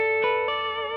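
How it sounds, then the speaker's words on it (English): Electric guitar harmonic through a Ruokangas Valvebucker tube-driven pickup into a clean amp with reverb: a bell-like sustained tone rings clearly with two soft plucked attacks, then decays smoothly with a reverberant tail, close and alone. "Put a harmonic on and play something on another string."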